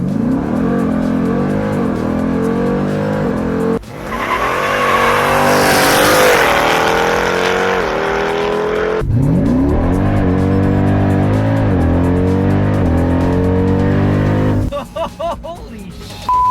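A 900-horsepower Jeep Grand Cherokee Trackhawk SUV accelerates hard with squealing tires. The engine revs climb through several gear changes, very loud and close, before the vehicle settles and eases off near the end.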